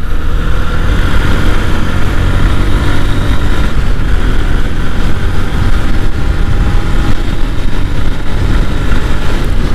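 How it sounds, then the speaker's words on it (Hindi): A Honda SP 125 motorcycle ridden at speed, around 70–80 km/h, gives a steady, loud engine and wind roar that runs unbroken throughout, with no talking. "थोड़ा सा बाइक को मैं यहाँ पे भगाता हूँ"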